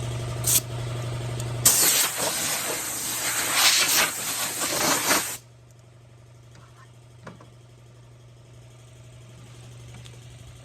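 Air hisses loudly into a tire mounted on an M37 Budd rim during inflation, a harsh steady rush lasting several seconds before it cuts off, with an engine idling underneath.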